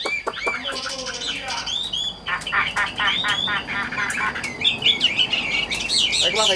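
A tame songbird kept in a cage sings nearby in quick chirping bursts and rapid trilled phrases, loud and continuous over a soft background hiss.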